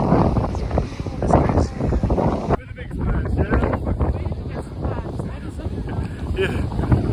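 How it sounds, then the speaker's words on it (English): Wind gusts buffet the microphone on a windy day in Croatia, rough rumbling bursts that rise and fall under people talking. "the wind starts as soon as we get here"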